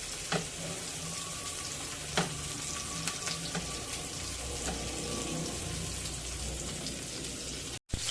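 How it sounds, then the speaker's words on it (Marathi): Pomfret fish frying in hot oil in a shallow pan, a steady loud crackling sizzle throughout with a few sharper pops and spits, close up and with no voices. "आता आपण त्यामध्ये पापलेट घालून घेऊया"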